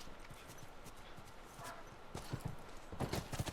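Horses' hooves clip-clop in The Last of Us video game, a steady rhythm of soft thuds that grows louder and busier toward the end, with a brief whinny-like tone in the middle.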